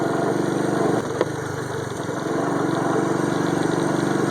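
A 1984 Honda ATC 125M three-wheeler running steadily in first gear on a bumpy ride without suspension, its small single-cylinder engine putting out a constant buzzing drone with a slight dip and bump partway through.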